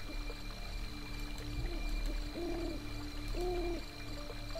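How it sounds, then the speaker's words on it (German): Seagull cries from the video game The Secret Order 2, heard as two drawn-out, wavering calls over a steady ambient hum and faint background clatter. "Wieder eine Möwe. Schöne Tiere."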